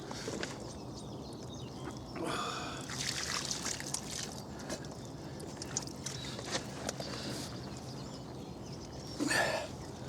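Water poured by hand over a freshly caught common carp on the bank, a light splashing trickle in bursts, with louder splashes near the start and end and faint outdoor ambience.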